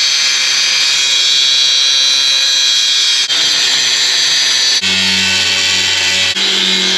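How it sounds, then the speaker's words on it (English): An angle grinder cuts steel tube during a squeeze chute swap, giving a loud, continuous high-pitched whine that shifts tone several times as the disc bites into the metal. "So if you're wondering why I'm cutting this one with the grinder,"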